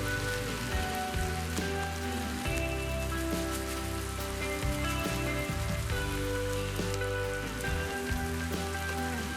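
Eggplant caviar with added tomatoes and garlic frying in a pan, giving a steady, dense crackling sizzle that continues without a break at a fairly even level.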